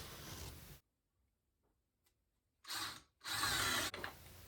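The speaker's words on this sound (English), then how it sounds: "I'm drilling the holes that the dowels will fit into" A power drill boring dowel holes in wood for a workbench, heard close and loud in short bursts. The first burst stops abruptly, followed by a quiet gap, then two more bursts with a brief pause between them.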